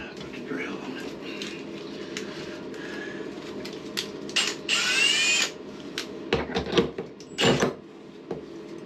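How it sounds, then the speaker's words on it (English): A power drill whirs in several short bursts, starting and stopping, with clattering and handling noise in between. "let's put the drill on it"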